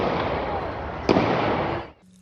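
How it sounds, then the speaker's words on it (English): Several gunshots ring out at a crowded No Kings street protest in downtown Salt Lake, sharp loud cracks over steady crowd noise, one standout bang mid-clip before the sound cuts off abruptly. "Sudden gunfire stunned everyone. He fired several shots."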